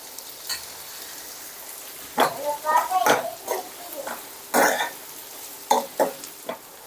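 Chicken masala frying and being stirred in a pan, with soft sizzling and intermittent scraping stirs at close range beneath a voice talking.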